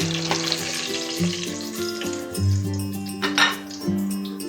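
Whole spices, cardamom, cloves, bay leaves, cinnamon pieces and peppercorns, sizzling in hot oil for pilau, a steady close crackle with metal utensil clinks and stirring scrapes in the pan.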